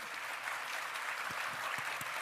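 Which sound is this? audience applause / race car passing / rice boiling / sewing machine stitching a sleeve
audience applause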